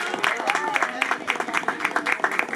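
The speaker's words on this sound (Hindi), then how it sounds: "छोटे सेंटर क्लॉज के लिए बच्चों तालियां" Children clapping at a Christmas drama for a small child dressed as Santa Claus, fairly close, in quick uneven bursts with voices mixed in.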